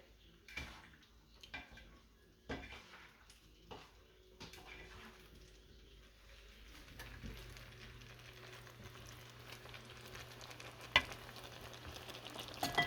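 Beef and vegetable stir fry sizzles in a pan, with a faint continuous frying hiss under intermittent scraping and clanking knocks of stirring, close and fairly quiet.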